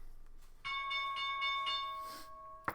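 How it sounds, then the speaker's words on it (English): A bell rings out with a clear, sustained metallic tone, struck once and left to ring for about two seconds before a brief knock at the end; no one speaks. "All right, bell's ringing."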